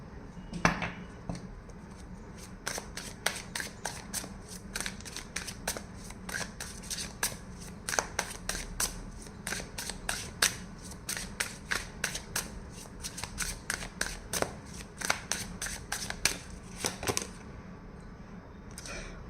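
A deck of tarot cards is shuffled in quick runs of crisp, rapid card flicks and riffles, fairly faint and close, with brief pauses between passes.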